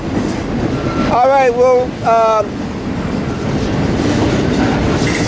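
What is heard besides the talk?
container freight train passing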